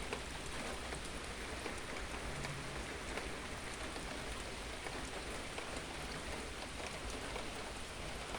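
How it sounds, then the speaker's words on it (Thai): Steady rain falls in a rubber plantation, a constant even hiss of drops on leaves and ground with no break and no voices. "วันนี้ฝนตกค่ะ"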